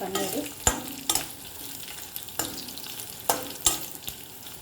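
Paneer frying on one side in a pan for a cabbage, carrot and beans curry, a soft sizzle punctuated by several sharp spatula knocks and scrapes, close and fairly quiet with no one speaking.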